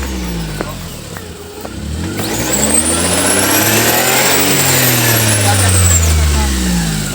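A car engine revs hard and steadily while the vehicle is stuck on a rough forest road near Udaipur, Tripura, the pitch rising and falling over several seconds with people talking in the background.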